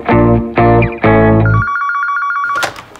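A telephone bell rings in two loud, close bursts and a third begins, then shifts to a steady electronic tone before a short thump at the end; no talking.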